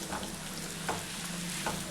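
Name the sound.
peeled garlic sizzling while sautéing in a pan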